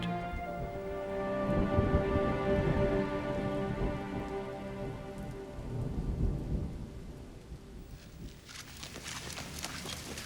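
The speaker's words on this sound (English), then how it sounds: "the center of the storm passes across the distant dunes" A thunderstorm rolls over sand dunes in Mongolia, heard as a broad low rumble swelling and fading, then a patter of rain or hail on a surface near the end, with no voices.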